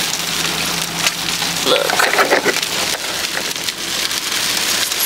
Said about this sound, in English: Okay, so it's still raining.